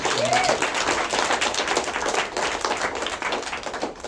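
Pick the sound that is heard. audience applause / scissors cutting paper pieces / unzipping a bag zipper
audience applause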